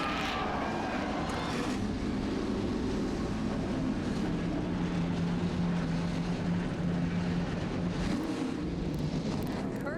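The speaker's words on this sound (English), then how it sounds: "Gentlemen, start your engines!" A field of NASCAR stock cars fires up at Daytona, a thick, continuous engine roar heard at a moderate distance, swelling and rumbling without pause.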